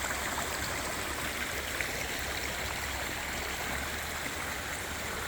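Steady, even rushing of a stream after rain as it flows into a culvert beside new banking, a continuous close wash of water with no voices.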